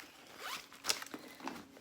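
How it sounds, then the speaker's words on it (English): Zipper on the side pocket of a Louis Vuitton Graceful bag, pulled in a few quick, close, quiet zips. "the zipper side pocket on the side"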